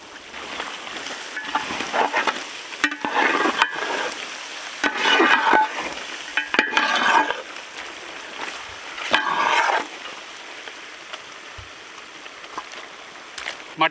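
Mutton sizzles in ghee and oil for Hosakote dum biryani, with repeated scraping stir strokes and bursts of frying hiss rising and falling close by. No talking.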